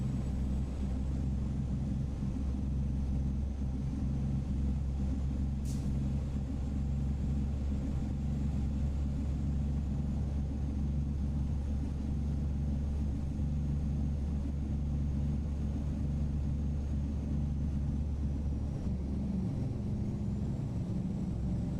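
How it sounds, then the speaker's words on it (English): A Kenworth W900 truck with a Cummins X15 straight-pipe exhaust in American Truck Simulator drones with a deep, steady rumble at a constant pitch throughout, with no talking. "It's the Cummins X15 straight pipe from Slab Jerry"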